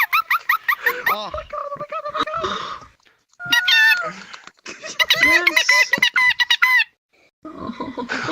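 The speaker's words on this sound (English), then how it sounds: "we want to hear the squeak" High-pitched squeaks on a podcast: bursts of repeated, gliding squeals in quick succession, close and loud, broken by short pauses, with a brief spoken exclamation.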